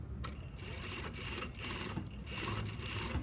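Sewing machine back tacking at the base of a right-over-left fly front zipper, a steady rapid mechanical whir with short pauses and restarts as the stitching reverses direction, close and moderately loud with no talking.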